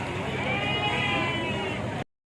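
A sheep bleating in one long, wavering, loud call at a weekly sheep and goat market in Kadiri, cut off abruptly into silence.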